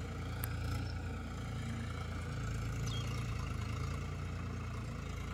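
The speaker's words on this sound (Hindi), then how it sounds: "थोड़ा सा जुता जाएगा फिर ट्रैक्टर बंद आज के लिए" A tractor engine runs at a steady, quiet idle-like drone while ploughing a field, faint and continuous with no talk.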